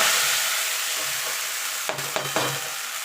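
Chopped chickpea greens go into hot oil with tempered radhuni and black cumin, giving a steady close sizzle and a few sharp crackling bursts as the leaves hit the pan and are stirred, with no talking.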